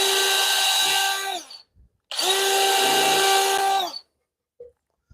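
Power drill boring into wood for adjustable table feet, two loud sustained whining runs of about one and a half seconds each, with a short pause between and a brief knock afterward.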